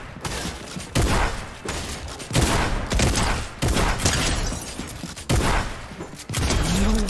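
Loud, close gunfire in a first-person shooter video game, with rapid bursts and sharp repeated shots that keep coming almost without a break and have no speech over them.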